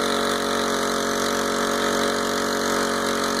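A Honda GX25 engine on a motorized bicycle runs steadily under load, a constant high, buzzing drone with no breaks.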